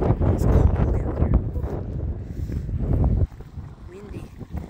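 Blustery, cold wind buffets the microphone with broad rumbling noise, strong for about three seconds before easing to a lighter, steadier gust.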